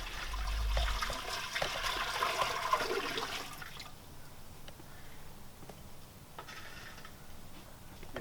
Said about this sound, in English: I'm going to take my water, just dump it in there.